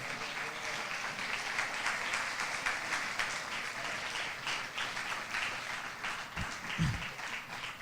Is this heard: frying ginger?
no